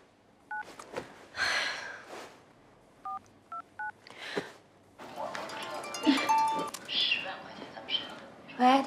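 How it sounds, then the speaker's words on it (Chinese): A telephone number is dialed, a few short, evenly spaced keypad tones ringing out clearly, followed by other louder indoor sounds. "你给魏魏打个电话，"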